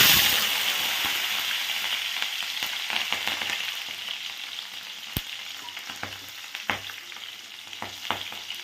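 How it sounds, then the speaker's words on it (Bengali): Nigella seeds and ripe green chili frying in hot oil, a bright, close sizzle that gradually eases, punctuated by sharp pops and crackles. "সুন্দর করে আমার কালো জিরে আর লঙ্কাটা ভাজা হয়ে গেছে"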